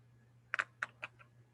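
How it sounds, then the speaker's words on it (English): Calculator keys being pressed to enter numbers, four crisp plastic taps in quick succession close to the microphone over a low steady hum, with no speech. "I'm typing that into my calculator."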